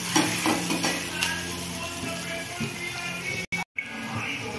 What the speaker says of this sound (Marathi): अद्रक आणि लसूणची पेस्ट चांगलं हलवून घ्यायचं